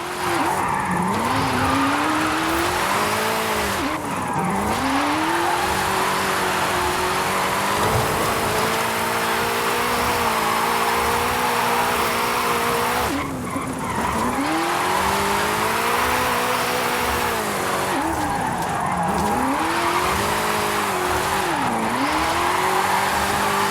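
A car drifting in the Mexico setting of Forza Horizon 5, its engine roaring continuously while tyres squeal in long wavering sweeps through repeated slides. The sound is loud and sustained, with no talking.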